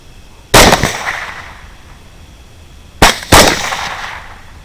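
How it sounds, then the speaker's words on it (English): Rifle shots from a 6.5 Grendel fired at hogs in an oat field at night: one loud sharp crack with a decaying echo, then two more close together, each rolling off into the open field. "that's me firing in the background at a completely different set of hogs"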